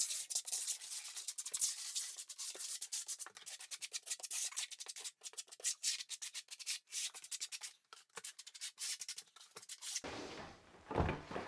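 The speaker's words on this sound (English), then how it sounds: "take the flat side of your trowel, burn it into the substrate" The flat side of a trowel works thinset into the substrate for a slate stone floor, producing rapid, repeated gritty scraping strokes that sound close and quiet. A rougher smear follows near the end.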